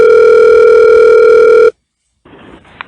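A loud, steady telephone dial tone holds for well over a second and then cuts off abruptly, followed by quiet line noise and a faint click.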